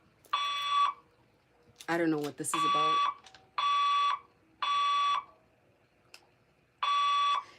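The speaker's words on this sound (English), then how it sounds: "Sorry guys that this alarm is going off right now." A building alarm sounds in repeated loud electronic beeping bursts, each about half a second long with short gaps, while a person speaks between them.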